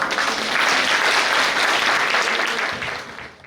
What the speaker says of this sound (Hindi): तो ऐसे हमारे प्यारे विकी अमोल भाई के लिए जोरदार तालियां